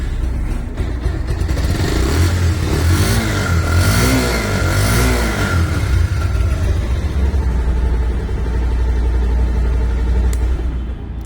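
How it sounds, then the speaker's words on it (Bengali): A Pulsar motorcycle engine idling and running smoothly, close and loud, a steady mid-pitched rumble with a few brief rises in revs in the middle, alone without speech. "গাড়িটা রাফ চলেনি একদম টিপটপ চলছে সাউন্ডটাও অনেক স্মুথ সুন্দর আছে"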